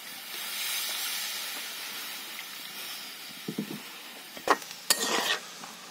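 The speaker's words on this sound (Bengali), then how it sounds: "আমি মশলার সঙ্গে কষিয়ে নিয়েছি, এবার এতে আমি দিয়ে দিচ্ছি জল।" Water poured into a pan of spiced potatoes for aloo dum, set off by steady hissing sizzle with a few sharp bursts and clatters near the end as the liquid hits hot oil.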